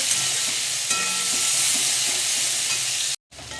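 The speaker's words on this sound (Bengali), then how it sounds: "এবার দিয়ে দিচ্ছি কেটে রাখা পেঁয়াজ। পেঁয়াজটাকে আমি লাল করে নেব।" Chopped onion hits hot oil with tempered spices for a soybean and potato curry, giving a loud, continuous close-up sizzle with occasional stirring and a brief cut near the end.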